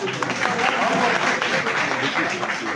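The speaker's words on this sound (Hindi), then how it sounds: "आप इसके लिए तायदी तालियां बजाएं" Audience clapping at a poetry recital gathering, a continuous wash of many hands at moderate level, with a voice faintly mixed in underneath the applause.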